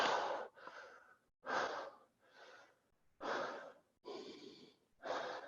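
Slow, deep breathing during a yoga pose: audible inhales and exhales alternating in a steady rhythm, close and quiet, with no talking.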